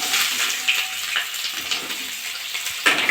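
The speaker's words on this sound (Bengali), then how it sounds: "পেঁয়াজটা ভেজে নেবো।" Onions frying in oil that already holds whole black cumin seeds, a steady close sizzle with faint bubbling that runs without pause and has no voices over it.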